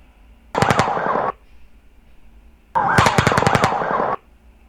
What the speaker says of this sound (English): in this case, the muzzle can barely be heard, and we hear the sound of the bullets